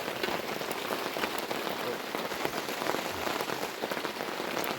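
Steady rain patters densely on a surface, a constant close hiss of drops with no pauses.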